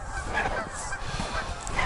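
Wild geese honking as they fly in off stubble fields to land, a dense overlapping chorus of calls sustained and fairly loud throughout with no voices.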